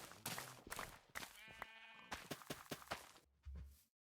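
Sheep bleat repeatedly in a farming video game, several distinct calls spread across the clip with no talking over them.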